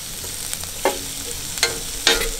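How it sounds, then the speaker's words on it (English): Onions fry in grapeseed oil with a constant close sizzle, and a spoon stirring them gives three soft scraping strokes. "the olive of the grapeseed oil is just there to really get the onions going"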